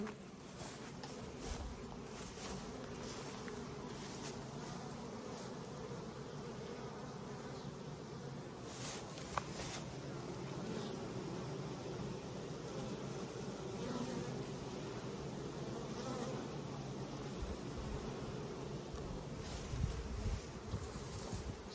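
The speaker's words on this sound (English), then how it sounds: "bees fanning here, and I think it's because there's a flow starting." A steady, dense buzzing hum of many honey bees fanning at a hive fills the scene continuously, close and moderately loud, with no voices.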